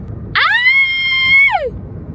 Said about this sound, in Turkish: Özür dilerim bağırdığım için.